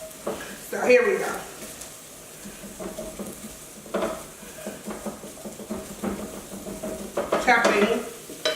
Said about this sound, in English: Chopping, as you can see. We're breaking it up into very little pieces.